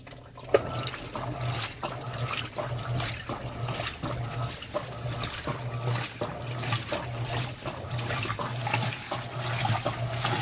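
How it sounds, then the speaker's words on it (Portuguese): Electrolux LPR16 washing machine filling with water for the rinse, a steady rushing and splashing flow with a low hum underneath, continuous and fairly close throughout. "A lavadora encheu pro enxágue."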